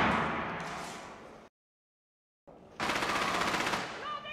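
Automatic gunfire in Rainbow Six Siege on the Consulate map, rapid loud bursts close by, cut by a second of silence before a denser sustained volley resumes.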